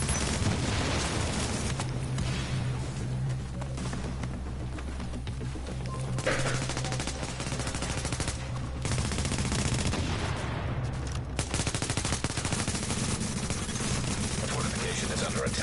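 Gunfire roars through a fortification attack in a video game, with dense, continuous bursts and booming shots filling the whole clip at high volume while a voice talks underneath.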